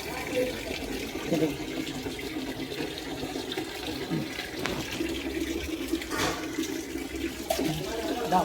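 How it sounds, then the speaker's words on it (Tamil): Water runs steadily from a tap during a visit to Vallalar's house in Chennai, a continuous splashing hiss that goes on throughout while people talk over it. "தண்ணி இப்படியே விடலாமா?"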